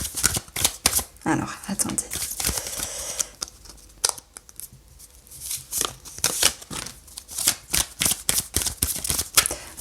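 Tarot cards being shuffled and handled in a series of quick papery riffles and snaps, close and fairly loud, with a brief spoken remark in French partway through.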